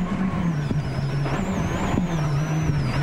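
Peugeot 307 WRC rally car on a gravel stage of the 2005 Acropolis Rally, its engine droning loud and close with a steady low tone, brief gear-shift blips and a high whine over continuous roar.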